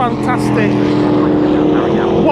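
Ginetta race cars sliding around Paddock Hill at Brands Hatch during a race, heard as a loud, steady engine drone with rising and falling tones throughout the short stretch.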